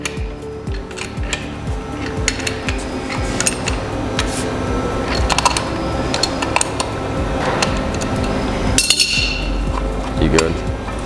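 Two adjustable wrenches loosen nuts on a threaded rod of a Morehouse UCM, producing repeated close metallic clinks and scraping knocks, with a sharper clatter near the end and people talking briefly alongside.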